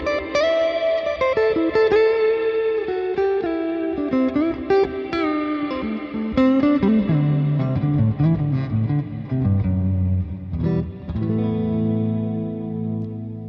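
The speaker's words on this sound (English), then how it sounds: "Just a lot of reverb, really." An electric guitar plays a melodic solo through a G3 Atom pedalboard, drenched in heavy reverb with chorus and distortion, sustained notes ringing out and bending over a long, spacey tail.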